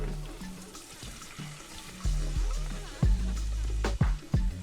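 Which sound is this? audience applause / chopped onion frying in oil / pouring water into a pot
pouring water into a pot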